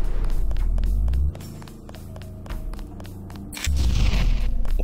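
Gunfire in the video game The Nameless Mod, a series of sharp rapid shots over heavy low rumbling booms, loud and close, with a quieter lull in the middle before the barrage resumes.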